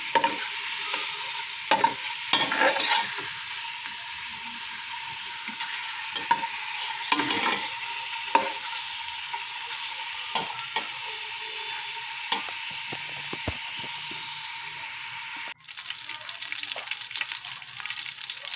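Native chicken skin frying in a pan to render out its own fat, a continuous bright sizzle with stirring scrapes and clatters throughout and a brief dip near the end before the sizzle resumes.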